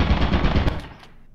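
Automatic turret gunfire in the video game Lethal Company, a loud rapid burst of shots that fades out over the last half second.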